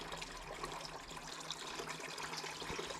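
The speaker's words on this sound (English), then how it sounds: "I'm just trying to pour it right through the paper towel." Vinegar poured back into a rusty motorcycle gas tank through a paper towel, giving a steady, close trickle of liquid that runs continuously without any voices.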